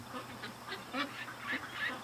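Ducks quacking in a yard, a run of five or six nasal calls at an even pace, moderately close against a light outdoor hiss.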